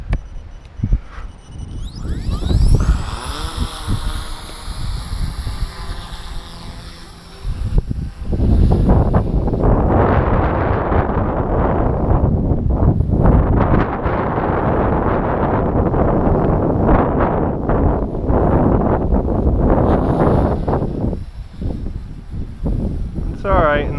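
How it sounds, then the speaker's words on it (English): Strong gusting wind buffets the microphone throughout a windy outdoor test flight of a 140-size belt-drive model helicopter, a loud continuous roar with someone talking over it. "Alright, this is a very windy day."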